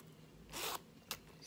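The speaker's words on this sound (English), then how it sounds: "zipper works great." Zipper on a Louis Vuitton Emilie Blooms wallet being zipped, two quick close rasping pulls, one longer and one brief, in a quiet room.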